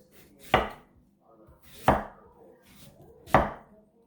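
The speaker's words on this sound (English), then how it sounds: "At this point, I'm just gonna chop them in pieces" Apples being chopped into pieces for sugar-free applesauce: three firm, close knife chops land on a board at an even, unhurried pace, with quiet pauses between them.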